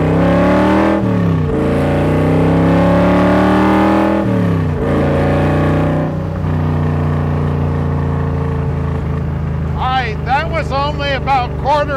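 A 1965 Shelby Cobra Factory Five with a small-block V8, revved hard in loud rising and falling bursts, then settling to a rough idle before a quick series of sharp throttle blips.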